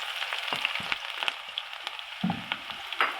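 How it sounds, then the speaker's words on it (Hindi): Chopped onions tipped into a cup of hot oil for dhaba-style masala chana dal, giving a steady bright crackling sizzle with scattered pops and a louder burst near the end, no voices. "ऑयल गर्म हो गया है, अब ये चॉप की हुई प्याज डाल दें।"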